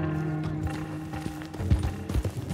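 Horse hooves clip-clop close by in Red Dead Redemption 2, a steady run of hoofbeats under a low background rumble.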